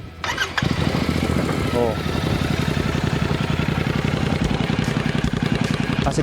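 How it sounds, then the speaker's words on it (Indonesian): A Royal Enfield Classic 650 motorcycle engine cranks and fires up, then settles into a steady, throbbing idle with an even pulse. Someone briefly exclaims near the start. "ini sekarang kita tes dengerin suaranya si Royal Enfield Classic 650"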